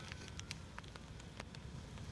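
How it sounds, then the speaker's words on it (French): Heavy rain falls outdoors in Houston during a Colombia vs DR Congo football match day. It makes a faint, even hiss with scattered sharp drop ticks. "Il pleut abondamment aujourd'hui, sous la pluie"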